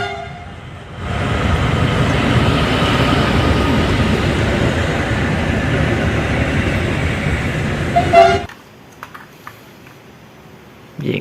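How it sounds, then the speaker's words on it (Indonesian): A service train passes straight through a railway station on track 4 without stopping, its loud steady rumble and rattle lasting about seven seconds before cutting off abruptly. "Kereta api dinas melintas langsung jalur 4."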